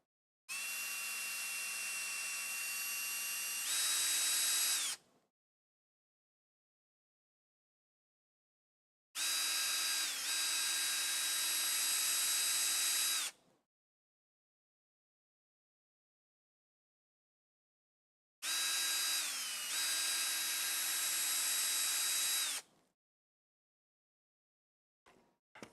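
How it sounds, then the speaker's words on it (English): A power drill whines loudly in three long bursts, each lasting several seconds, drilling holes in a Casadio Unimog model kit, with silent pauses between them and no talking. "I think we need to drill these 4 out."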